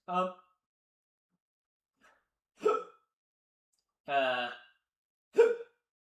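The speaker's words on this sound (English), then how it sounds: "I got the hiccups." Hiccups, four separate sharp vocal jolts spaced a second or more apart in near silence, close to the microphone.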